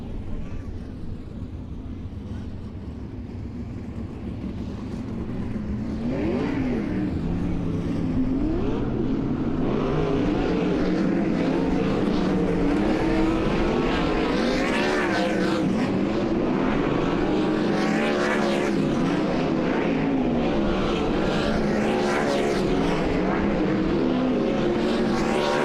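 Late Model race cars roar around Volunteer Speedway during hot laps, a dense continuous engine drone with passing surges that swell and fade, loud and sustained throughout.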